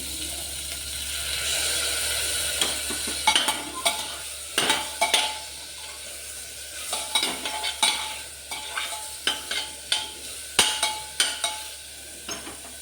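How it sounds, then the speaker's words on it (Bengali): Lightly salted chicken pressed into a hot pan for chicken soup sizzles steadily, punctuated by a series of close, sharp scraping knocks from a utensil pushing the pieces down. "ওর উপরেই আমি লবণ হালকা লাগিয়ে রাখা চিকেনটাকে আমি চেপে চেপে দিয়ে দিচ্ছি"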